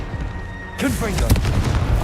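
The Confringo spell in the Hogwarts Legacy video game bursts into a sudden booming explosion with crackling debris. It follows a brief whoosh, and a voice speaks underneath.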